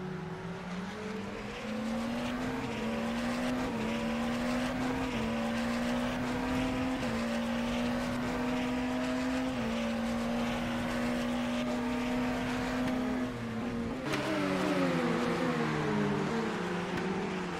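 Hypercars racing in the SRM Hypercar World Series at Sepang, with a steady high-pitched engine drone whose pitch shifts through gear changes, then a sudden louder burst as another car passes close, with no speech.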